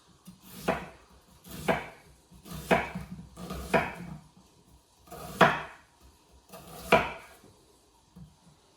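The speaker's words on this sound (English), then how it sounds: "So we're gonna cut it in half, right? And then I'm just gonna take big slices." A knife cuts a vegetable into big slices on a board. Six evenly spaced chops land with a thud and slicing crunch about once a second, close and clear, with no talking.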